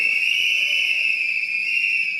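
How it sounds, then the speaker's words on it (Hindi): A loud, steady whistle blast sounds close up, holding one shrill pitch without a break for about two seconds. "वापस सीटी बजाइए।"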